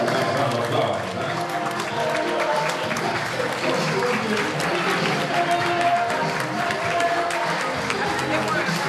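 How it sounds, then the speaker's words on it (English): A live audience at a public event applauds to greet civil rights figure Rosa Parks, a loud, sustained roar of clapping from a large standing crowd mixed with chatter. "Nice round of applause, huh?"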